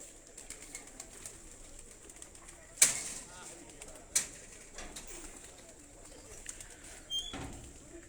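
A racing pigeon perched on a rooftop in Kadianwala coos softly against steady outdoor background noise, broken by a few sharp clicks or wing-flap bursts.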